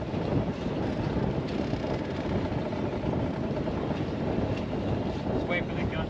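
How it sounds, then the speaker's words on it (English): Blustery wind gusts buffet the microphone on a boat on the Brisbane River, a constant loud rushing roar with water and hull noise underneath, no clear talking. "Just wait for the gust to die down."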